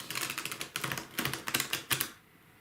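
A deck of cards being shuffled in quick riffling bursts, a rapid patter of crisp flicks that comes in four or five short runs, close and clear, ending in a quiet pause.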